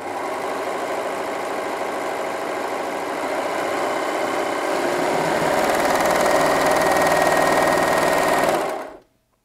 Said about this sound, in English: let's have a look now at this narrow three thread overlocking stitch